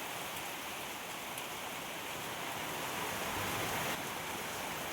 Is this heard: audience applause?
no